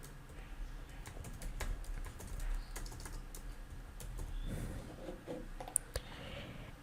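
An email address is typed on a computer keyboard: quick, irregular key clicks tapping close by at a soft level, with a couple of sharper keystrokes near the end and a faint background hum.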